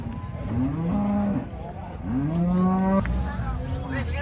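Cattle moo loudly and close by, two long drawn-out calls followed by a shorter one, with faint background chatter, as cattle come down from a truck.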